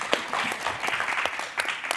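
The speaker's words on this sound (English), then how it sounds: "round of applause on that one" A panel audience applauds with dense, steady clapping that stays fairly even for a couple of seconds, and a voice cuts in faintly under it.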